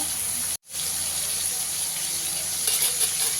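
Shrimp sizzling in hot oil in a wok, a continuous close hiss and crackle interrupted by a brief dropout near the start, then carrying on steadily with no voices.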